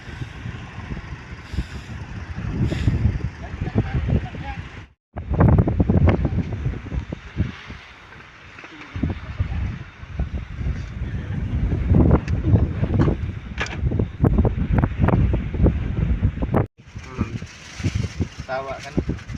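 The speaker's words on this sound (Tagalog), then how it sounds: "Kung maririnig nyo sa video mga kamaskara, napakalakas ng hangin." Strong wind blows outdoors and buffets the microphone in loud rumbling gusts. Someone talks over it almost throughout, and the wind roar rises and falls under his voice.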